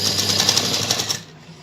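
A sewing machine runs a straight seam on a bridal lehenga, a steady close buzzing stitch rhythm lasting about a second before stopping abruptly.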